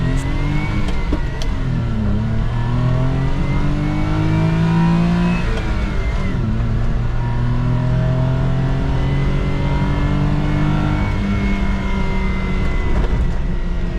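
A Suzuki Carry dump truck with a SOHC F6A engine drives and accelerates, its revs climbing and dropping through several gear pulls, loud and close over about fourteen seconds with no talk.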